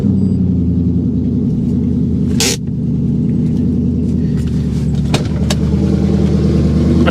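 A car engine rumbles steadily at idle, with a couple of brief sharp clicks or bumps over the continuous low drone.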